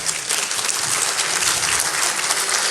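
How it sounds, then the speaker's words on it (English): An audience at an economic development summit applauds a caterer with dense, sustained clapping from a crowd, loud and even throughout with no voices standing out. "Let's give them a round of applause."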